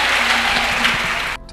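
A church congregation claps and acclaims in praise of Jesus Christ, a steady, full wash of applause that cuts off abruptly at the end.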